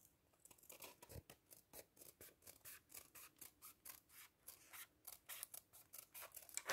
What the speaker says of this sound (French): je vais venir couper avec mon ciseau